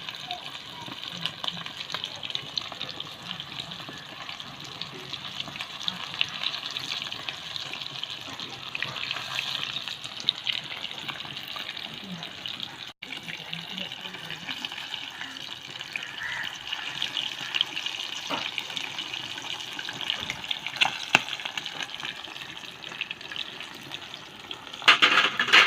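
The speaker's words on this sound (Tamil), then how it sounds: "ஸ்மெல்லு செம்மையாக வருது, பொரிக்கும் போதே வாசனை தூக்குது" Quail frying in a pan with oil, a steady close sizzle and crackle running throughout with occasional louder pops and stirring scrapes near the end.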